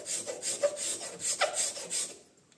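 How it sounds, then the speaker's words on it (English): A wood scraper is drawn across wetted wood in quick rhythmic rasping strokes, about eight scrapes in a row, close and fairly quiet, before fading to silence. "So you wet your wood, you take the wood scraper,"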